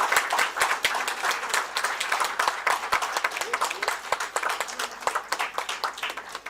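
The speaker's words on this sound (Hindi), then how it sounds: "जोरदार तालियां एमवी इंटरनेशनल स्कूल" An audience at a science festival curtain-raiser claps for school students receiving prizes: dense, sustained applause with rapid overlapping claps throughout and a voice speaking underneath.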